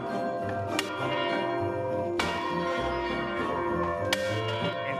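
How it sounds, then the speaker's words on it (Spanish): Church bells peal for mass in a steady, ringing sequence with sharp strikes and long overlapping resonance, fairly close and loud throughout, with no talking. "¿Y este repique para qué se utiliza? Pues para misa."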